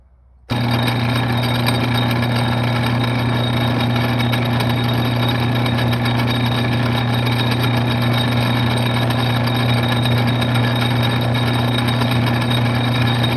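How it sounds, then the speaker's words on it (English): A metal lathe skims a bolt while fabricating a control handle for a small log splitter, giving a steady, fairly loud motor hum that runs unbroken from just after the start to the end, with no talking. "Let's chuck that up in the lathe and give it a try."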